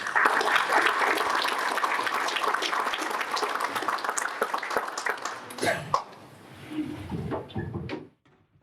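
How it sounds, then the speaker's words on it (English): Audience applause at an automotive business talk, a dense steady burst of clapping that fills most of the clip, then thins out and stops as a few voices and soft room noise remain. "I'd love to invite Mr. Chris Hoke, if you guys give him a round of applause."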